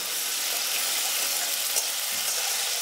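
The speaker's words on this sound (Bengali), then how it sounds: "এবার আমি এর মধ্যে দিয়ে দেব একটু আদা বাটা, সাথে দেব একটু রসুন বাটা, দিয়ে একটু ভালো করে কষিয়ে নেব।" Ginger paste and garlic paste sautéing in hot oil in a pan, a steady broadband sizzle that stays loud and even throughout, with a faint stir or scrape near the end and no voices.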